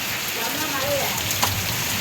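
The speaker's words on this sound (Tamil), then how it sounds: "கோயம்புத்தூர் ரொம்ப மழை பெய்ஞ்சிட்டு இருக்குது" Heavy rain falls in Coimbatore as a steady, dense wash of noise with a few closer drops, a voice briefly audible under it.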